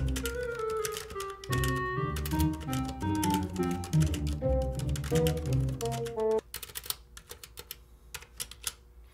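Rapid, continuous clacking of a split mechanical keyboard with Cherry MX Red switches, heard alone after music fades out partway through.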